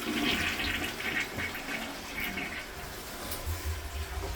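A hotel room toilet in Malgrat de Mar, Spain flushes with a loud, close rushing of water that runs steadily for several seconds, with no voices over it.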